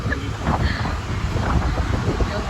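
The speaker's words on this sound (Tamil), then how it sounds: "செம்ம மழை, காத்து," A storm with strong wind and heavy rain roars and buffets against the microphone in loud, gusting surges, with a faint murmur of voices mixed in.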